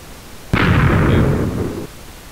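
A TNT block explodes in Minecraft, one sudden loud blast with a sharp onset that rumbles and fades over about a second and a half, heard alone with no talk.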